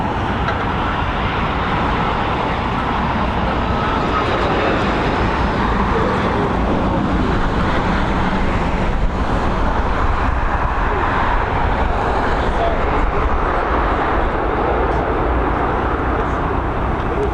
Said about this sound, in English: Here we go, enjoy this Dreamliner.